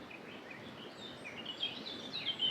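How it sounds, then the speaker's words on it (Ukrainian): Several birds chirping and singing outdoors in a village, thin high calls scattered over a soft background hiss, moderately faint and at a distance. "Послухайте, як співають пташки"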